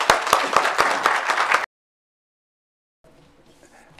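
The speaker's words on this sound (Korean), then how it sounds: "우리 감독님 나오실 때 박수를 한번 크게 환영했으면 좋겠습니다." A church congregation claps during a Sunday worship service in a short burst of sharp, separate hand claps, which stops abruptly and is followed by near silence.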